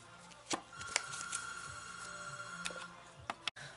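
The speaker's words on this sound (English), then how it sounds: "phone call interruption" A telephone rings with a sustained electronic tone, punctuated by a few sharp clicks and knocks nearby, moderately loud with no talking over it.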